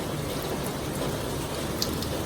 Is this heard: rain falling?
yes